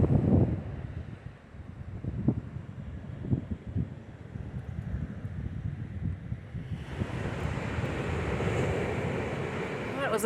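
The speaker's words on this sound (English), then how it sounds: "There's huge waves here and surfers" Ocean surf breaks on a Cape Cod beach with a continuous roar and wash of waves, with gusty wind buffeting the microphone throughout, and the surf grows fuller and steadier in the second half.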